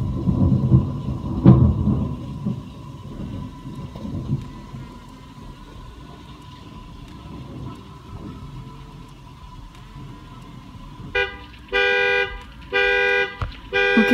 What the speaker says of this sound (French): Ok, il y a eu un gros éclair. Et ça a fait sonner la voiture.